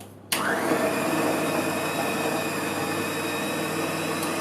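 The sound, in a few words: food processor running at speed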